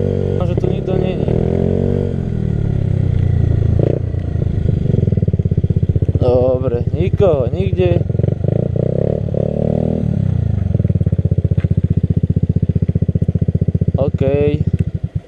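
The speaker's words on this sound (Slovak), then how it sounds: "Tak dneska by som vám chcel predstaviť môjho skutrika. Je to Suzuki Burgman 125" A Suzuki Burgman 125 scooter engine hums steadily at low pitch during a ride, a constant droning bed running under near-continuous talking.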